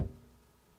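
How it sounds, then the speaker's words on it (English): A Mercedes-AMG GLC63 SUV door shuts with a single heavy, dull thud at the very start, then fades quickly into quiet. "it's really heavy, so good quality door closing sound"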